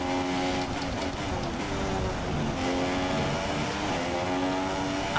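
Hamilton's Formula 1 race car in F1 2017 at Australia, a steady high engine whine with harmonic tones that shift slightly, sitting over a continuous mid-level drone with no talk.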